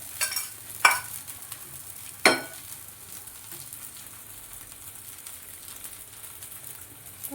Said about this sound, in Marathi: साध्या तव्यावर पण आपले डोसे उत्तमपैकी होऊ शकतात